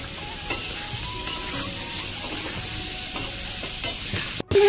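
Vegetables and spices fry together in a pan for a Bengali pumpkin and Malabar spinach dish with hilsa fish head, giving a close, continuous sizzle with light scraping stirs and a sharp clatter near the end.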